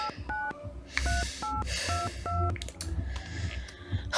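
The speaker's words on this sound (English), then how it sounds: "Let me just get my phone and call the number." A phone number is keyed in as a quick series of about ten touch-tone beeps in an uneven rhythm, close and clear over a steady background hum.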